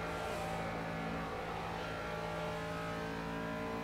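Ginetta G40 race car engine in Project Cars at Snetterton 300, a loud steady drone held at high revs throughout, continuous and close with no breaks or talking.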